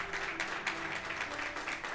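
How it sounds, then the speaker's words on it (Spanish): A church congregation gives loud, sustained applause during a Spanish-language evangelical devotional service, with dense clapping that fills the room steadily and evenly throughout. "dale un fuerte aplauso al Señor"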